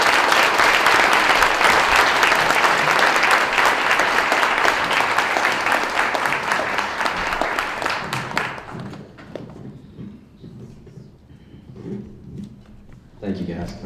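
An audience at UNC Asheville gives loud, sustained applause welcoming Principal Chief Michelle Hicks. The clapping lasts about eight seconds, then fades into room murmur and scattered voices.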